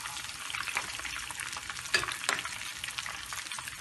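Cumin seeds sizzle in desi ghee in a pan for moong dal khichdi, making a soft, steady crackle with a few sharper pops and light scrapes, faint and without voices.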